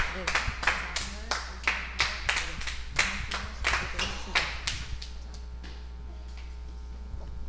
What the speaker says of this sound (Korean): 같이 한번 박수 한번 쳐보도록 하겠습니다